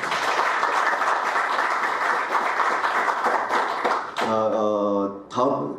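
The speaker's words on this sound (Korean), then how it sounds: "큰 박수 한번 보내주십시오" Dense, loud audience applause at a construction-industry breakfast forum fills the room steadily for several seconds, then gives way abruptly to a brief musical tone at the end.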